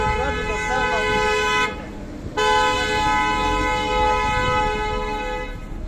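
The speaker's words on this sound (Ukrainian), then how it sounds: "Чи вони сигналять нам з вами?" Several car horns blare in long sustained honks over traffic noise on Shevchenko Street in Poltava, one briefly stopping before resuming, loud and close.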